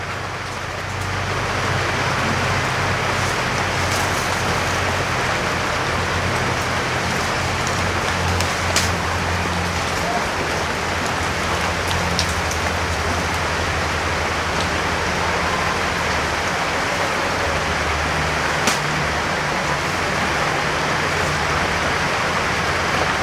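Steady, dense rainfall hisses continuously throughout, an even wash of drops with a low rumble underneath and a few sharper ticks standing out.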